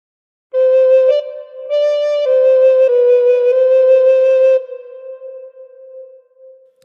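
Recorder playing a phrase of Battle Hymn of the Republic: a few sustained, breathy notes, close and fairly loud, joined smoothly with small steps in pitch, then fading with a soft trailing tail.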